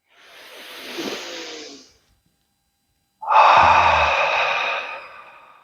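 Deep breathing exercise with arms spread to the sides, starting with a long breathy exhale, then a pause, then a loud, close, sustained inhale that slowly fades.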